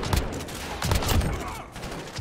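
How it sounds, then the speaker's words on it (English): Shotgun blasts in Modern Warfare, an R9-0 firing a few spaced, fairly soft bursts amid background game noise. "let's try use this shotgun"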